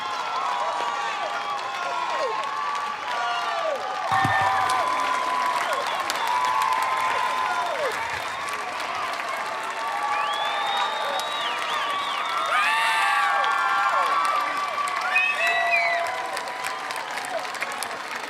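Sustained applause and cheering from a crowd honoring the Washington High School class of 2021 at a commencement ceremony, with steady clapping, scattered whoops and shouts throughout, loud and continuous.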